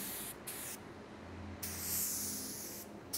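A spray gun set to 1.5 to 1.8 bar lays primer surfacer on a plastic car repair, making close hissing bursts that start and stop over quiet pauses, several short sprays in a row.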